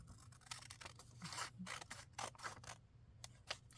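Scissors snipping down a paper bag to shorten it, a series of quiet, close crisp cuts and rustles in an otherwise still room.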